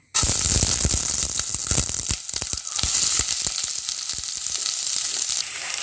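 Sliced onions hit hot coconut oil in a pan for brinjal masala, setting off a loud, crackling sizzle with dense popping that keeps spitting steadily for several seconds, close up and without talk.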